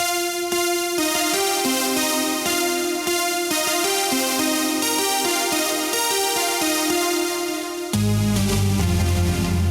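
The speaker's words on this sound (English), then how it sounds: "So the sound I was looking for was called pad and either sine or sin." A sustained synthesizer pad holds smooth, layered chords, then shifts to a lower, fuller chord near the end.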